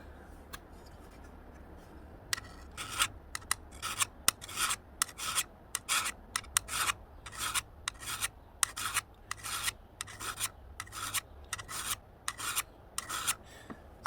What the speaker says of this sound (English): All you got to do is run the file along that angle and make it the same.